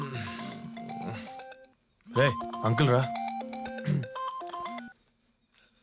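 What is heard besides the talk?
phone ringtone ringing at night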